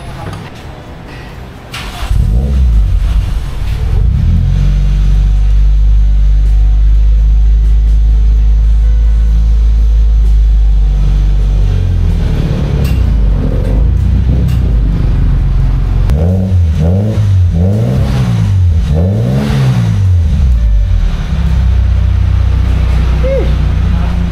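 A Toyota Corolla AE92 with a 4A-F engine and aftermarket exhaust cranks and catches, then idles with a deep, loud exhaust drone before a run of repeated rising-and-falling revs; voices speak briefly near the start.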